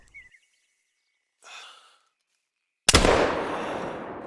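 A single sharp rifle shot from a hunting game rings out after near silence, a sudden loud crack trailing into a long fading echo, with faint breathy sounds before it.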